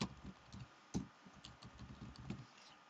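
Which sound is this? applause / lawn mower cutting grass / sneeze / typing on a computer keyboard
typing on a computer keyboard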